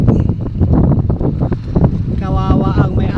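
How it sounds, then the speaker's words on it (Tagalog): Strong monsoon wind gusts at a harbor where a boat has sunk, roaring and buffeting the microphone loudly in uneven bursts, with speech mixed in. "hangin."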